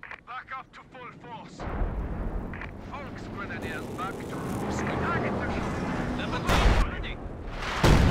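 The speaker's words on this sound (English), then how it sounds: "he's going for the base barrage" Artillery barrage in Company of Heroes 2 pounds a base with heavy booming impacts and rumbling explosions that build over several seconds, loud and dense, under game effects and chatter.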